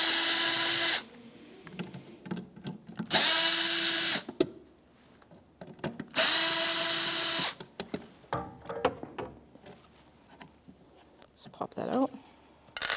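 A power drill backs Phillips screws out of a tail light on a 1997–2006 Jeep Wrangler, with three loud, even whirring bursts of about a second each separated by pauses filled with clicks and handling noise.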